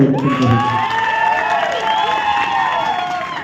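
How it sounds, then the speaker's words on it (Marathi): A crowd at a stage hypnotism comedy show breaks into loud applause mixed with cheering, whoops and children shouting. The roar is close and sustained throughout, with voices rising over the clapping. "त्यांचं एकदा कौतुक होऊन जाऊ द्या. जोरदार टाळ्या."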